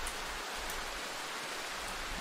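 Steady rain falling in the dark survival horror game Darkwood, a constant broadband hiss with no breaks, fairly quiet and heard alone without any talk.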